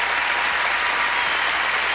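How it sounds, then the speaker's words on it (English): Arena crowd in Atlanta on its feet applauding figure skater Todd Eldredge after an exhibition performance, a dense, steady wash of clapping with no break, no voices over it. "The people of Atlanta on their feet applauding the talents of Todd Eldridge"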